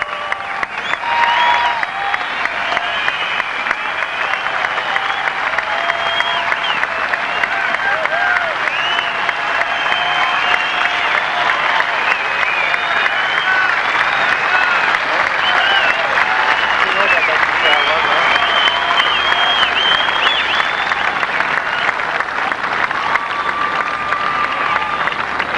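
A large golf gallery at the 2001 Australian Open at The Grand Golf Club breaks into sustained, loud applause with scattered cheers for Stuart Appleby's victory, the clapping steady and dense throughout.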